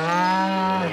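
A cranky cow in a Postman Pat cartoon farm scene lets out a single sustained, rich moo, loud and close, with no talk over it.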